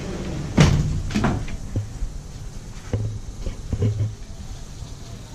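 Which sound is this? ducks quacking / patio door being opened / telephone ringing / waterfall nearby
patio door being opened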